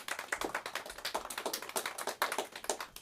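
Scattered applause from a small open mic audience for a performer, a loose run of claps and taps at moderate distance with no talking.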